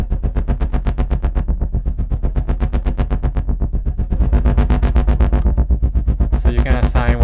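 Synth tone from the Pulsor instrument for Kontakt with an LFO volume gate, chopped into rapid, even stuttering pulses that grow slightly louder partway through, with a brighter burst near the end.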